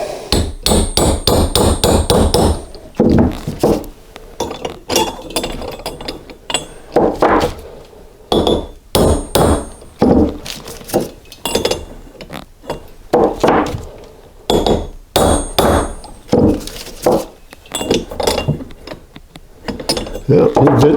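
A hammer drives a push rod tube fitted on a mandrel into a 1983 BMW R100RS motorcycle engine, striking in repeated bursts of sharp metallic blows with short pauses between them, loud and close.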